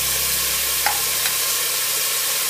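Chopped vegetables with finely chopped bottle gourd sizzle steadily in a pan for mix veg dal khichdi, a loud continuous frying hiss with a couple of faint taps from tossing, no voices.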